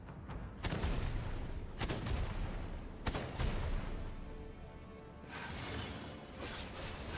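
Heavy booming shots from an enemy's bazooka rifle in Wuchang, several loud blasts spaced about a second apart with rumbling tails, followed by a brighter, noisier stretch near the end.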